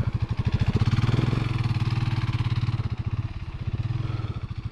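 A Honda CB500X motorcycle rides off-road, its engine thumping in a steady, close, pulsing rhythm that eases slightly toward the end, with no talking.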